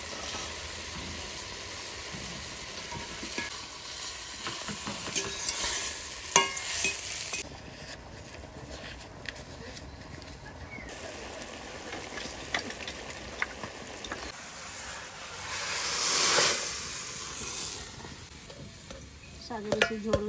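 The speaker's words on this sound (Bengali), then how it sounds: "এবার চিংড়ি মাছটাও দিয়ে দেবো।" Shrimp frying in a pan while being stirred, a close, continuous sizzle with clanks and scrapes of the spoon, surges of hiss and a louder burst of steam near the end, without talk.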